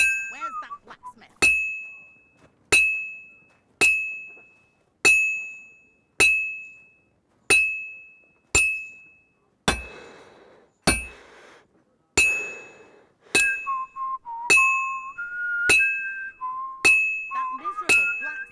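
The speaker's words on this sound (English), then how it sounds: "The first bell. Another 11 to go." A medieval church bell in Kingdom Come Deliverance II tolls in slow, even strikes about a second apart, each loud clang ringing out and fading before the next, with a faint whistled tune drifting in near the end.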